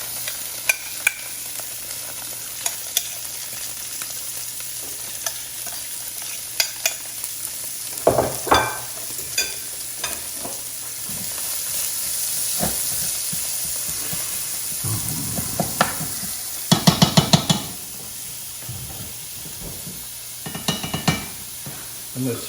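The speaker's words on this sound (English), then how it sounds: "I'm gonna let them saute for a little while until they get waxy." Onions sauté in fat in a pan, a steady close sizzle running throughout with occasional scraping stirs and clatters of a utensil against the pan, no speech over it.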